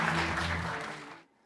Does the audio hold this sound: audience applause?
yes